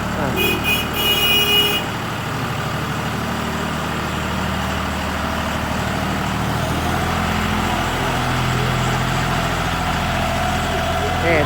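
A John Deere 5040D tractor with a 40-horsepower, three-cylinder, 2,900 cc non-turbo diesel engine idles steadily at close range, a low continuous rumble throughout, with a short high-pitched chirp near the start.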